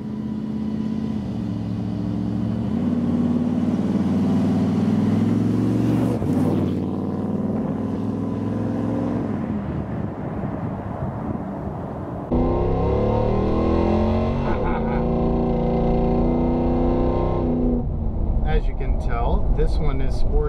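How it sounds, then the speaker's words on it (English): A Ford Bronco truck engine revs repeatedly through a loud Borla Rowdy aftermarket exhaust, rising and falling in deep throaty bursts, close by, with a few brief sharp pops. "This one is sporting the Borla Rowdy exhaust."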